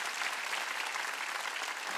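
A church congregation applauds during a worship service, a dense, steady clatter of many hands that holds at an even level for two seconds with no voices on top.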